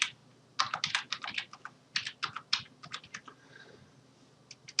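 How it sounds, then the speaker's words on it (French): A password is typed on a computer keyboard at an Ubuntu login screen: two quick bursts of close, crisp keystrokes with a short gap between them, then a few sparse taps. "on va taper le mot de passe qu'on a choisi à l'installation"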